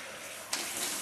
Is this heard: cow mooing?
no